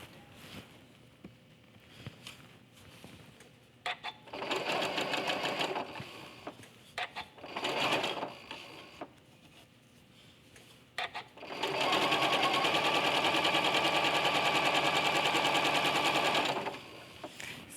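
A sewing machine chain-pieces quilt block pieces, stitching in short bursts early on and then in one long steady run, close and clear with no talk.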